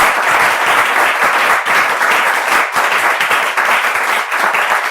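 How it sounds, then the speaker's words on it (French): Steady applause from a church congregation thanking a pastor, loud and continuous with dense overlapping claps for about five seconds, no talk over it. "On peut applaudir."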